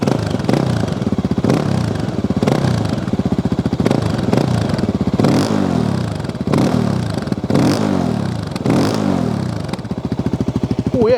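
Engine of a Voge 300 Rally motorcycle revs repeatedly, close and loud, each blip rising in a raspy, rumbling climb and then falling back toward idle in a steady rhythm over the whole stretch.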